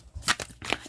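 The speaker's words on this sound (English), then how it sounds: "Okay, maybe I will shuffle again." Oracle cards being shuffled by hand, two quick rustling riffles in under a second, close and moderately loud.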